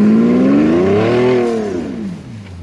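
An Audi with a W12 engine on 22-inch wheels revs up close and loud, its pitch rising smoothly then falling away over a couple of seconds, with nothing else heard.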